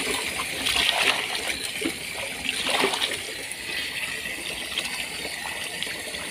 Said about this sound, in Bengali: চলো মাছগুলো ভালো করে ধুয়ে নিই